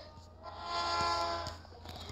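A passing train in the video game Crossy Road, with a swelling rumble and a horn-like tone that builds and fades, plus a few light clicks from the game.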